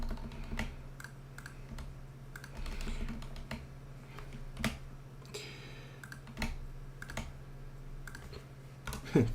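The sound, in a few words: aggressive typing on computer keyboard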